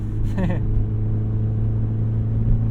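A 1998 Honda Civic CX's non-VTEC engine hums steadily at close range with a rise in pitch near the start, like a brief rev, while a voice murmurs faintly underneath.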